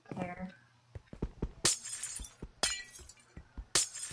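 Glass shattering in a survival video game, several sharp breaking crashes at irregular intervals mixed with clinks and block-hitting knocks, with a person talking underneath.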